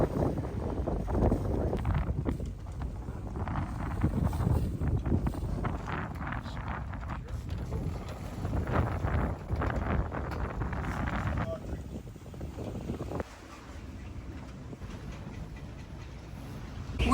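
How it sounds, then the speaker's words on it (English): Strong wind of 20 to 25 knots on a sailboat at sea on a close reach, a steady loud broadband rush with gusty buffeting on the microphone throughout, and voices talking over it. "We have seen over 20 knots of wind, 25 knots at the peak this morning."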